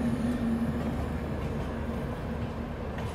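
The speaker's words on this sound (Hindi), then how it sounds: "यहाँ पर कोई ट्रेन भी निकल रही है जिसका नाम मैं बिल्कुल नहीं पढ़ पा रहा हूँ" The Bhuj Bandra Express passenger train rumbles past nearby at night, a steady loud rolling roar with a faint tonal hum, no voices.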